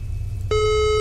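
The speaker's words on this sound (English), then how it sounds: "this loud alarm started going off." A school alarm sounds: a loud, steady electronic tone cuts in abruptly after a low background hum and holds without pause.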